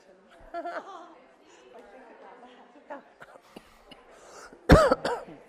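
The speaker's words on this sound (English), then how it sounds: "Try not to cough into that thing." Soft murmured talk and background chatter at a collage art session, then a single sharp, loud cough into the microphone near the end with a short trailing sound.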